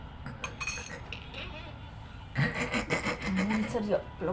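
Sherbet drink for an iftar table being stirred in a glass, giving light repeated clinks of a spoon against glass, close and moderately loud, with speech-like sounds over the latter half.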